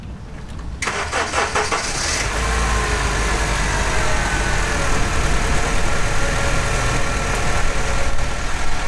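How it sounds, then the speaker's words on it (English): A completely dead car cranks briefly and catches on a Lokithor jump starter, the engine then settling into a steady, loud idle that runs close up to the end. "So let's try to start the vehicle again."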